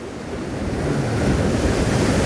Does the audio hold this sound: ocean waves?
yes